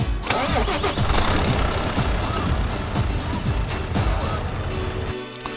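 A Renault Magnum truck engine in Euro Truck Simulator 2 cranks and fires up, then settles into a loud, steady, rumbling diesel run for several seconds before cutting off abruptly at the end.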